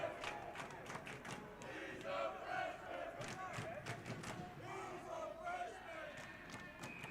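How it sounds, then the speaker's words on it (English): A capacity crowd roars and cheers continuously at a college ice hockey game between UConn and Coast Guard after a hat-trick goal, with sharp claps and bangs through the din and a commentator talking over it. "Listen to the capacity crowd on hand. Absolutely fired up there."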